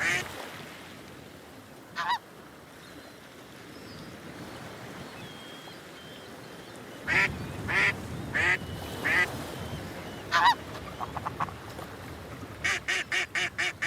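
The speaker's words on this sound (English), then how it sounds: "The big male hears the duck, but cannot see her." A duck calling near water, a series of loud, separate honking quacks. One call comes early, then a cluster of calls, then a fast run of repeated quacks at the end, all over a soft backdrop of surf.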